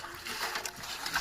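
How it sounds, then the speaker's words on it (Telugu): Dishes being scrubbed and washed with water, a close trickle and splash of water with clinking near the end, and no talking. "పొద్దుగాల 8 గంటలకు వచ్చిన గిన్నెలు అయితే తోముతున్నా."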